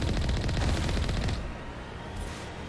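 Rapid automatic turret gunfire from Mass Effect Legendary Edition, a dense stuttering burst of shots for over a second that cuts off, leaving a quieter rumble with a faint later flicker.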